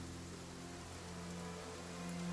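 Rain in the dressing-up adventure game Infinity Nikki, a quiet, steady patter with a soft low hum beneath it and no talking.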